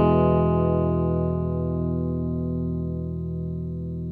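A single guitar chord strummed once and left to ring dry with no effects, its sustained tones decaying slowly and evenly, clean and close with no reverb tail.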